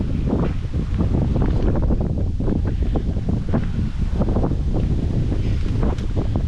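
Strong headwind while cycling near Bruges buffets the microphone in a steady, loud low roar, gusting continuously throughout with no pauses.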